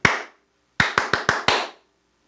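Hands clap a rhythm: one clap, a pause, then five quick, evenly spaced claps, close and crisp in a quiet room, as in a ti-ka-ti-ka rhythm dictation exercise.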